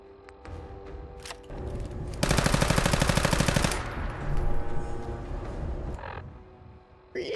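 Rapid continuous 10mm pistol gunfire in Fallout 4, a dense burst of fast shots in the middle, with scattered single shots and game ambience before and after.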